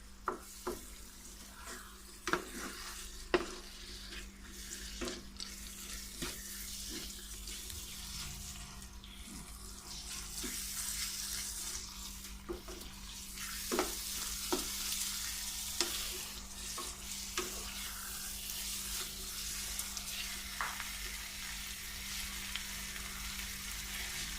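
Chicken angara cooking in a pan over a low flame, a soft continuous sizzle with scattered scraping stirs and clicks, plus a running-water-like wash throughout, no voices.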